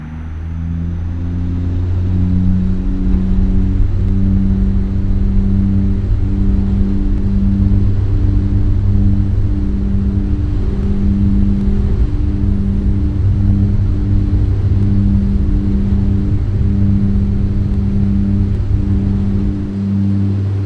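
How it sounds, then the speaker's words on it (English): A Dash-8 Q400 turboprop airliner in the Aerofly FS 2 flight simulator hums steadily through its takeoff roll, a loud sustained engine drone with pulsing tonal layers that holds for the whole stretch. "Okay, let's go ahead and take off."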